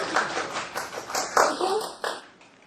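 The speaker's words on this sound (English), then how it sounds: "So, everybody, a round of applause for the" Audience at a lecture on Chinese New Year applauds with scattered, moderately quiet clapping that rises briefly and then fades out, with no talking over it.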